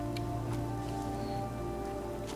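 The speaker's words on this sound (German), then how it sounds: "Ja, aber man braucht halt leider auch den Regen." Steady rain falls in the video game Fallout 4, a dense, continuous hiss of drops on surfaces that holds at an even level throughout with no voices over it.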